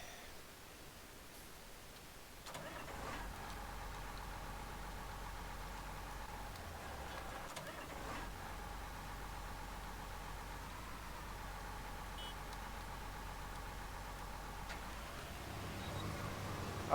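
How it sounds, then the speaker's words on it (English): A tractor engine in Farming Simulator 19 starts up and then runs at a steady, continuous drone, with a faint hiss beneath it and no talking. "Okay, so we've got a tractor now."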